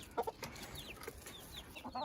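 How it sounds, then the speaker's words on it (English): A flock of backyard hens with chicks clucks softly in a London hillside garden, with several short, faint clucks and chirps scattered across a quiet outdoor background. "And here we go and see the chickens who are all coming."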